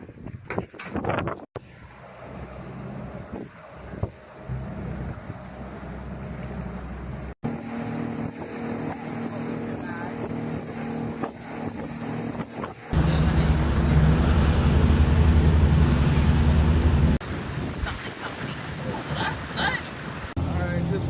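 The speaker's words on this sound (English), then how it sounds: "From there, you take a ferry, about 15 minutes across open water." A ferry crossing about fifteen minutes of open water to Turks and Caicos: a droning engine and wind buffeting in several cut sections, with a loud, dense roar in the later stretch before it eases.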